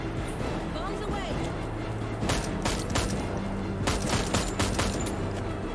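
Gunfire and bomb blasts from the video game 41 Hours crackle in dense, loud bursts over a steady musical background, with the heaviest volleys toward the end.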